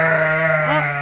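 A single sheep bleats loudly and close in a pasture, one long sustained wavering call lasting about a second, heard alone with no talk.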